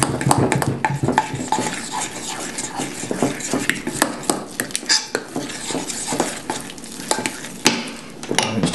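A spoon stirs a very sweet healthy dessert mixture in a bowl, giving repeated scraping clinks and soft swishes at close range with no talking.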